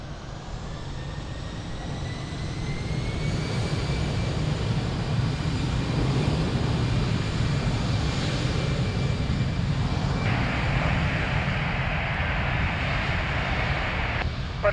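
An airliner taking off from runway 02 at Lisbon Airport, a sustained broad engine roar that builds and holds steady at moderate distance, with a whining tone rising above it later, no talking.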